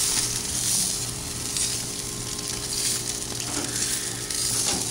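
Food, including bacon and toasted items, crackles and sizzles steadily on a new outdoor grill, a dense continuous hiss that stays loud throughout, with no talking.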